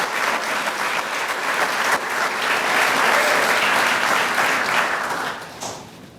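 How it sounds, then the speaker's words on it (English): An audience at a William & Mary Athletics Hall of Fame ceremony gives sustained applause. The clapping swells to a loud, steady peak and then tapers off near the end. "please, give you a round of applause."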